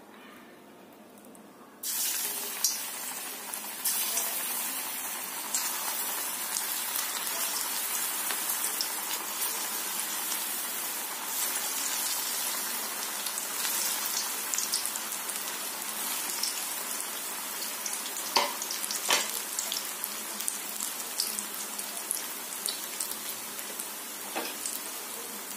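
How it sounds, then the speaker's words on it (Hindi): Jackfruit koftas drop into hot oil in a kadai, bursting into a loud, dense, continuous sizzle that holds steady with occasional sharper crackles and no talking. "देखिए मैंने कढ़ाई रख दी थी और तेल भी गर्म हो चुका है। अब कोफ्तों को डालते हैं।"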